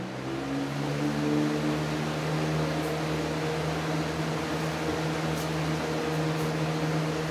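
Toastmaster Weather Shield box fan on high speed with older pedal-style blades, a steady loud whirring drone with a low hum, constant and close throughout with no talking.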